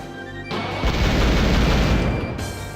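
A rocket launcher explosion attack in the Wild Arms video game, a sudden loud booming blast that erupts into a dense, sustained rumbling roar for about two seconds before cutting off, with no talking.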